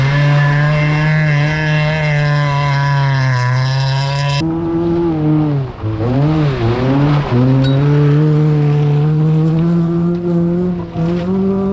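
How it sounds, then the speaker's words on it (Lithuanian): A rally car engine misfiring and running unevenly during a gravel race, a loud close droning buzz whose pitch wavers and dips, briefly stumbling midway before carrying on rough and strained. "bet girdis iš garso, kad nedirba mašina."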